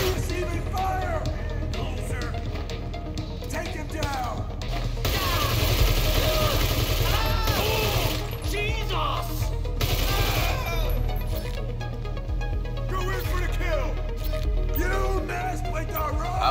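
Sustained automatic gunfire from a GTA Online mission firefight, dense overlapping bursts and shots continuing throughout at a fairly steady distance, with engine rumble underneath.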